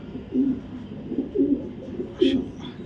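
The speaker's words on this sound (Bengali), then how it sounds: "টপ কোয়ালিটি একটা নর কবুতর" A male pigeon coos in four or five low, throaty pulses spaced roughly evenly, close and clear, with a brief faint rustle near the end.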